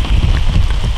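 Steady rain pours during an overnight outing, a dense continuous hiss close to the microphone with a low rumbling wash, sounding alone.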